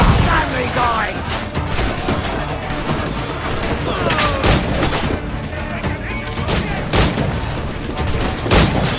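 Broadside of ship cannons roaring in Assassin's Creed IV Black Flag, a dense barrage of booms and crashes rolling continuously across the moment with sea-battle clatter, while a voice shouts over it.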